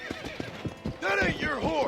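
A horse whinnies in Red Dead Redemption, a high wavering neigh rising over hoof-like clopping and a brief vocal sound at the start.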